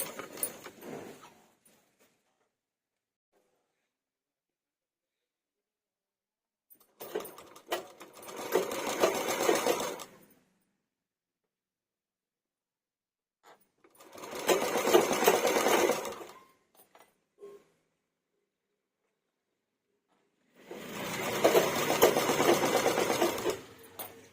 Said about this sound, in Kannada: ಅದಕ್ಕೆ ನಾನು ಈ ರೀತಿ ಸ್ಟಿಚ್ ಮಾಡ್ಕೊತಾ ಇದ್ದೀನಿ